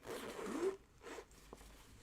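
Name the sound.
brass zipper on a Jungle Cloth zip jacket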